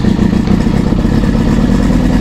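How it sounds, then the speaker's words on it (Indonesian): A motorcycle fitted with a dry clutch idles loudly and close by, a dense steady engine drone carrying a constant metallic rattling clatter, with no voices. "udah kayak ada suara-suara Ducatinya gitu, kerincing-kerincing-kerincing-kerincingnya kayak mesin jahit"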